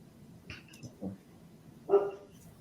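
A dog indoors lets out a few soft, muffled woofs and then one louder, sharper bark near the end, somewhat distant, amid quiet room noise.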